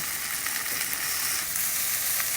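Small desi bitter gourds (karela) fry in a pan with a steady, dense, close sizzle that stays even and loud throughout with no talking.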